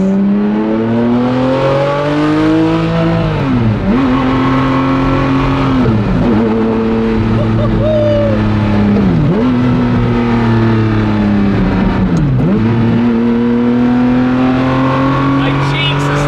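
A sports car engine with a loud 2B racing exhaust revs hard through several gear changes, rising and dropping in pitch, close and sustained.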